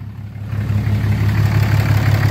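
A 2008 Cummins diesel engine with its emissions equipment deleted idles steadily up close, a loud, continuous low rumble with a slight uneven throb and no voices.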